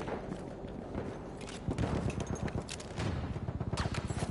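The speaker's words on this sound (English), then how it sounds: "Tossing a grenade!" A thrown grenade's blast and rapid gunfire in the video game Battlefield 1, bursts of close automatic shots in quick rhythmic volleys layered over rumbling battle noise, loud and continuous throughout.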